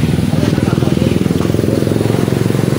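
A Yamaha Mio i 125 fuel-injected scooter engine runs loud and close during troubleshooting, a steady fast pulsing putter at idle with no pauses.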